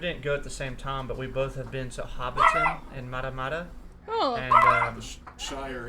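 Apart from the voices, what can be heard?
chihuahua dog barking while eating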